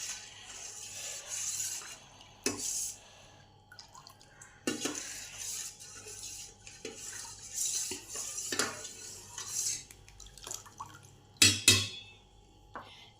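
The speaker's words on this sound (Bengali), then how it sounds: "15 মিনিট পর চাপাটা খুলে দেখি কি অবস্থায়" Lid lifted off a pot of panakam drink, with a series of metallic clinks and scrapes of cookware and utensils, sharp knocks scattered through a quiet kitchen background.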